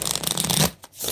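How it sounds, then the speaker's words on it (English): A deck of cards is shuffled up close in quick riffling bursts, with a brief pause near the end before the shuffling resumes. "I'm doing a few shuffles right now"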